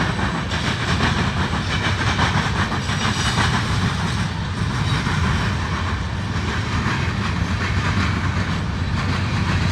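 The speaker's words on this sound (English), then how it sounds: "there's a high railer." A CSX hi-rail inspection vehicle rolls along railroad tracks near Fostoria, a steady loud rumble with rail clatter running throughout, no voices.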